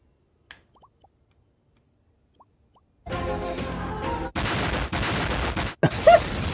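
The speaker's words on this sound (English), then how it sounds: "It's like a meme explosion." A meme-style explosion sound effect for a bomb in a one-hour game jam game, a loud noisy burst that cuts in abruptly, drops out in sharp jumps and flares up again near the end.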